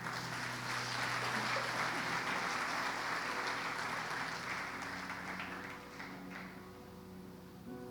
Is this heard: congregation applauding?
yes